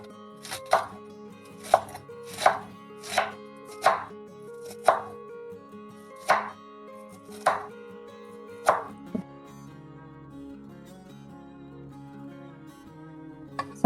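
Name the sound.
slicing cabbage thinly with a knife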